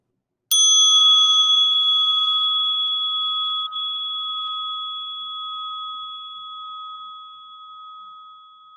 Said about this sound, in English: rest lovingly and gently your attention on the sound of this Tibetan bell